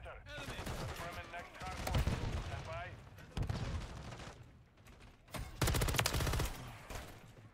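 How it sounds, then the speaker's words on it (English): Call of Duty Warzone gunfire crackles in dense, rapid automatic bursts with heavy explosive-sounding volleys, loud and sustained, while a player talks excitedly over the game audio. "my teammates just shot at me"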